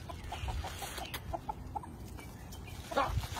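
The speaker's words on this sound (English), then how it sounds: "Chicken, get out of here." A chicken clucks repeatedly in the countryside, with short rhythmic clucks over a steady background and a louder burst near the end; no talking.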